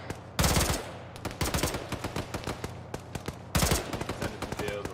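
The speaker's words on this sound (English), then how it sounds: "I want that machine gun loaded as quick as you can to lay down some fire for me." Machine gun fire in the military video game Arma crackles in two loud sustained bursts separated by scattered single shots, close and sharp, with faint radio chatter in the background.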